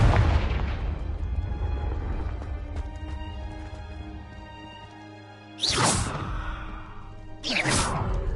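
Two Confringo spell blasts go off in Hogwarts Legacy, each a sudden loud whooshing burst with a booming tail, spaced about two seconds apart over a steady low game soundscape.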